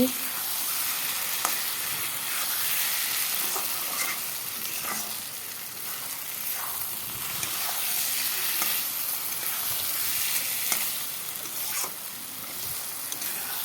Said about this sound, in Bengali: মশলার সাথে কিছু সময় আবার ডিমগুলোকে কষিয়ে নিয়েছি